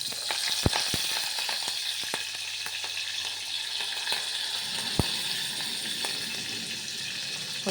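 Green chili slits and curry leaves sizzle in hot oil in a pan, a steady, close crackling hiss with a few sharp pops and clinks near the start and midway, no one speaking.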